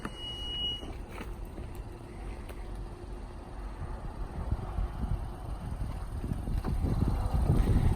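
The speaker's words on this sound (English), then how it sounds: "Push button close." Power tailgate on a 2019 Honda Odyssey EX-L closing by push button: a short warning beep, then a low motor hum building steadily over outdoor wind noise, growing louder toward the end.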